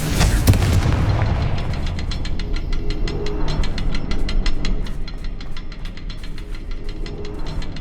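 In the Hogwarts Legacy video game, a Confringo spell goes off in a mine with a sharp, loud blast, followed by a rumbling, crackling tail and a rapid train of clicking pulses that gradually fades.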